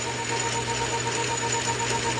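Metal lathe parting off a fabricated R8 tool holder for annular cutters, a steady dense grinding hum with a constant whine running unbroken and fairly loud throughout.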